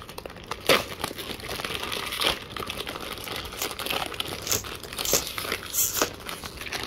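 A Blackpink Oreo packet wrapper is crinkled and torn open up close, with sharp plastic crackles and rustling arriving in irregular bursts.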